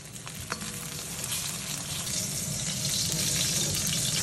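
Wagyu beef and garlic frying in a pan, a steady close sizzle with a few sharp pops and some stirring or scraping, growing slightly louder and more crackly toward the end.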